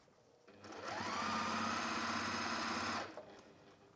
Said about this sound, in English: I'm going to use the seam guide here to help me keep a nice level seam as I sew around.